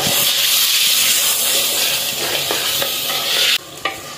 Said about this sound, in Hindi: अदरक लहसुन में भी मैंने एक मिनट भून लिया है